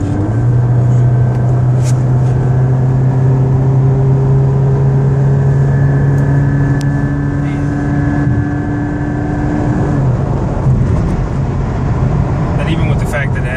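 A Scion FR-S sports car's engine drones steadily and builds as it is pushed hard through the gears toward high revs, heard from inside the cabin with a voice talking over it.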